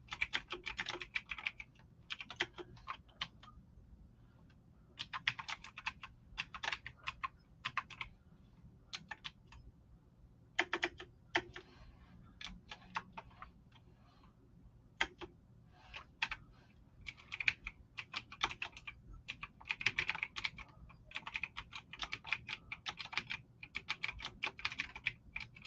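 Typing on a computer keyboard, with irregular bursts of close, crisp key clicks separated by short pauses over a faint background hum.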